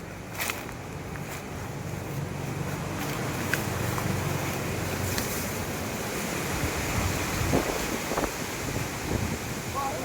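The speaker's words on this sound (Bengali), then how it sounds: "এক একটা দমকায় হাওয়া দিচ্ছে আর আম পড়ছে" Wind blows in rising gusts with a low, rough rumble against the microphone among mango trees, punctuated by a few scattered knocks and rustles as mangoes fall.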